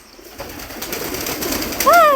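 Pigeons resting where they were left out of the rain, with a brief two-note call near the end rising over faint outdoor background and some soft noise.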